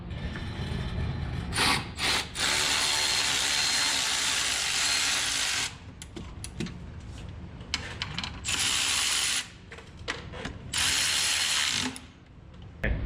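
A wrench works on the transmission cooler lines of a C4 automatic going into a 289 V8 conversion. Ratcheting and metallic rubbing clicks come in bursts close to the mic, broken by short quieter gaps, with no talking.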